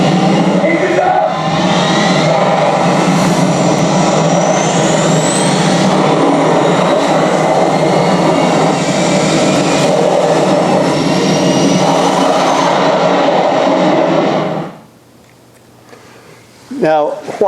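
Spacecraft engines firing in the film Interstellar, a loud sustained roar with rumbling jet-like texture that holds for about fourteen seconds, then cuts to near silence before a short burst returns at the end.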